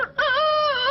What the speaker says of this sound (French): Pour un peu entendre le coq chanter